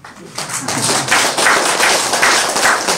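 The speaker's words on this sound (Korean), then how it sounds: "박수 한번 쳐주세요" Loud, close applause from an audience at an award ceremony honoring a poet, a dense run of clapping that swells quickly and holds steady for a few seconds with no voices over it.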